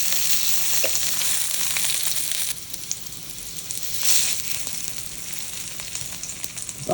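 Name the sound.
hot dog frying in oil in electric wok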